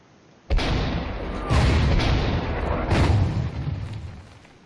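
Tank cannon fire in the World War II strategy game Order of Battle, Blitzkrieg Warsaw scenario: three heavy booms a second or so apart, each followed by a long rumbling roar that slowly fades, loud and alone.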